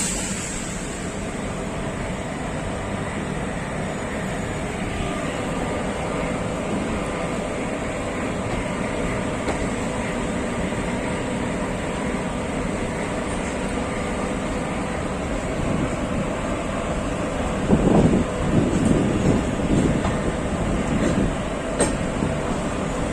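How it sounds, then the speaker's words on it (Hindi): Heard from on board, an Intercity Express passenger train runs between Varanasi and Gorakhpur with a loud, continuous rumble and hum and some rattling, a little rougher toward the end. "बिल्कुल जो ट्रेन है वो अपनी लार रोड से निकल चुकी है।"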